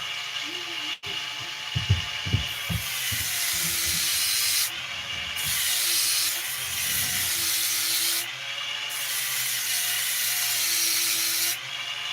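A high-pitched Dremel rotary tool whines in steady bursts, cutting a slot for a flat blade on a 346xp, pausing briefly between passes, with a few knocks and low rumbles near the start.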